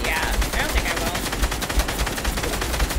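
Rapid gunfire in the video game Fortnite crackles as repeated sharp shots in quick bursts, loud and close, with a faint voice underneath.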